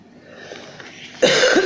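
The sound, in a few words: coughing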